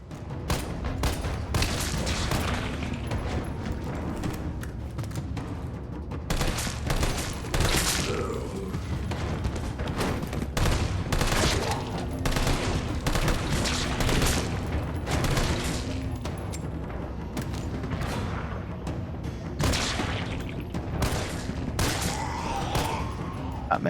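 Gunfire blasts almost nonstop in Resident Evil 3 Remake, a dense run of loud, close shots and heavy thumps with brief gaps, going on for nearly the whole stretch.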